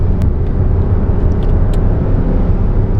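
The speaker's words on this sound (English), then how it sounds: "When it gets flat, go to second and just let it rev." A car engine revs steadily in second gear from inside the cabin, a loud continuous low rumble with little change in pitch.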